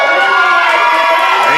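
Crowd noise at a GIPW independent pro wrestling event, a singles match between two wrestlers: a steady, loud wash of many voices shouting and cheering throughout, with a rising swell of voices near the end.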